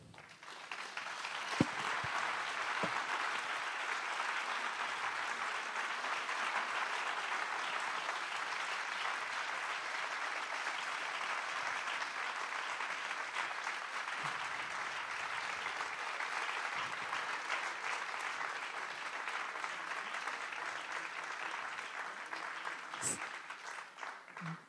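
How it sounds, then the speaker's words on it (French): Sustained applause from an evening audience at a talk on trees and forests, a dense, steady wash of clapping lasting the whole stretch and fading slightly near the end. "Vous pouvez les applaudir"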